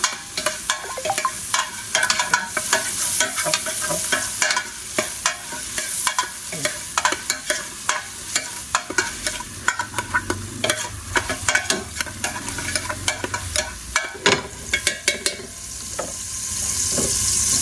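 Ingredients for macaroni soup sizzle and fry in a pan as they are stirred until golden brown. A spoon scrapes and clatters steadily over the continuous sizzling, close and fairly loud, with no talking.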